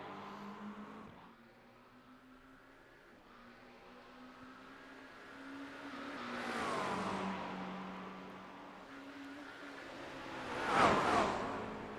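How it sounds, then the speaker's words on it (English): Pink Porsche race car on the Chicago Street Course, heard as a distant engine drone that swells and fades, with a brief louder pass near the end and no voices. "But Zach's going to bring that pink Porsche here to second position"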